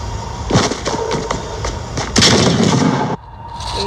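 Gunfire from Fortnite Battle Royale, close-range weapons: several loud, sharp bursts and booming shots cluster in quick succession, with a heavy blast near the middle and a sudden cutoff before a quieter tail, no speech.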